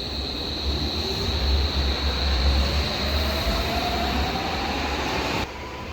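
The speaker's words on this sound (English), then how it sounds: "I'll get a bit of the train." Inside a packed passenger train in Germany, a steady loud rumble of wheels and carriage fills the air. A faint rising whine runs through it, and the noise drops slightly at the end.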